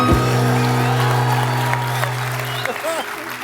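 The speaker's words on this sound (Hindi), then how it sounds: "तालियां!" A television comedy show's studio audience claps and cheers over a loud sustained musical tone, with a voice breaking in near the end.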